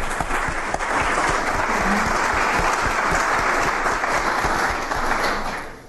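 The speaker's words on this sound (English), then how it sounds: "Can we have a round of, of applause for Joy Weber?" Audience applause for Joy Weber at Mayor Gavin Buckley's 2019 State of the City address in Annapolis: a steady, loud wash of many hands clapping that holds for several seconds and then begins to taper.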